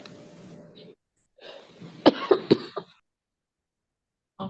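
Several sharp coughs in a quick cluster, close and fairly loud, followed by a brief raspy sound, with quiet gaps around them.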